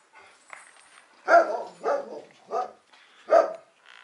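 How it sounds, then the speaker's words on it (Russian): A dog barks in a series of four or five sharp, fairly close barks with short uneven pauses between them, preceded by softer yips, with no talking over them. "хватит гавкать"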